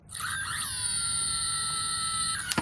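An electronic scream from a battery-powered Goosebumps book rings out, a sustained shrill synthetic wail lasting a couple of seconds before cutting off with a couple of clicks.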